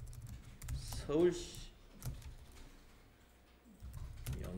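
Light, fast keyboard tapping runs softly under a person speaking close by.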